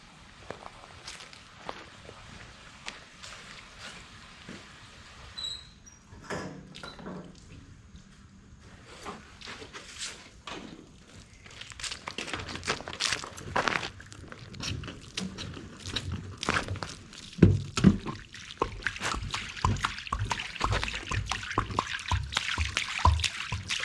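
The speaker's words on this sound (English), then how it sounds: "So I'll just fill this, and I'll shake it, and I'll drop it out here." A 1965 VW Beetle fuel tank filled with cleaning fluid is shaken and drained, giving irregular sloshing, knocking and trickling that grows louder and busier in the second half, with sharp splashy bursts as the liquid pours out.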